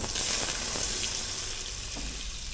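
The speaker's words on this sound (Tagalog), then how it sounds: "Ngayon naman guys, igigisa na natin ng ating sauce." Seafood sauce sautés in melted butter in a pan, giving a steady, close, dense sizzle and crackle that runs without a break from start to finish.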